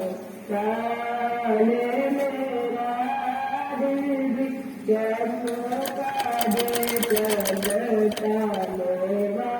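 A sewing machine stitches a single strip of fabric in two steady runs with a short pause between them, its motor whirring close up while someone talks over it.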